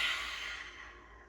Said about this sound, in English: nice, big lion's breath out